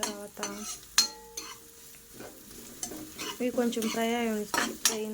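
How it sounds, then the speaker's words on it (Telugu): Thinly sliced big onions fry in a pan for veg manchurian, with a soft sizzle beneath scattered clinks and scrapes of a spoon stirring against the pan, heard close. "ఇప్పుడు సన్నగా తరిగిన పెద్దలపాయలు అనేది వేయాలి. ఇవి కొంచెం ఫ్రై అవనివ్వటామండి."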